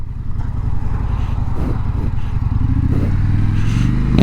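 A 2025 Indian Scout Sixty bobber motorcycle cruising at sunset, its engine a steady, close, loud drone with a low rumble that rises slightly toward the end, mixed with wind and road noise.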